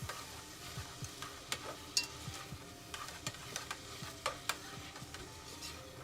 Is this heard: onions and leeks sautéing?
yes